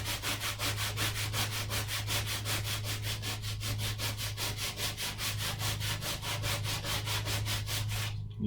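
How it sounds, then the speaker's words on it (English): Sandpaper rubbed by hand back and forth over painted wood on a bed storage chest, a rapid, even rasping rhythm, close and continuous, with a low steady hum beneath and no speech. "There's a little imperfection in the wood there, so I just take it, sandpaper, and I just rub on there."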